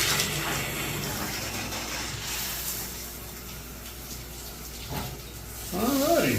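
Water running from a newly installed bathtub spout, a steady faint flow that continues throughout, with a brief voice near the end.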